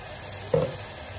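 Ground spinach paste hits a hot pan of cooked tomatoes and gives a brief, close, hissing sizzle that fades quickly into a steady low frying background.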